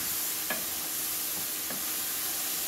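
Chicken stir fry sizzles steadily in a pan, a constant hiss with a couple of faint scraping stirs of a utensil, close and moderately quiet, with no talking.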